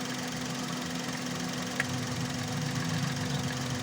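A misfiring car engine with a dead cylinder idles steadily with a low, uneven hum and occasional rough knocks, no talking.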